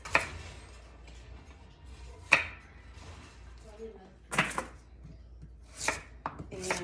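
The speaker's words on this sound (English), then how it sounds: "I'm just gonna basically cut these into wedges" A knife cuts sweet potatoes into wedges on a cutting board, giving sharp, irregularly spaced chops and thuds close by in a quiet room.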